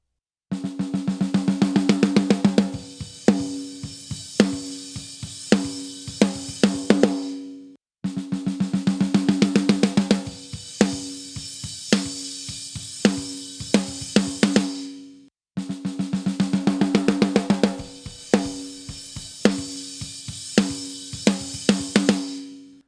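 A snare drum loop picked up by a 441 microphone and shaped with EQ, playing three repeated passes of crisp, rhythmic hits with short breaks between them, close and dry with no talk.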